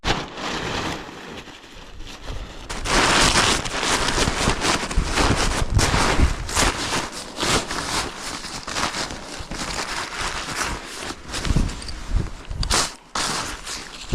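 Strong mountain wind gusts roar and buffet the microphone steadily for the whole stretch, broadband and close, with brief surges and dips and no talking.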